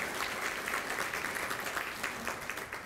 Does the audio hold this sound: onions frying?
no